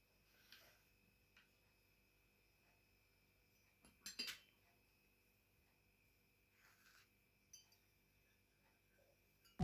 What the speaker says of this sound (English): Now put all ingredients in a teapot.